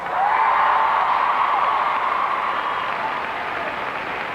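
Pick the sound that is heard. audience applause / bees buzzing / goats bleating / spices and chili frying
audience applause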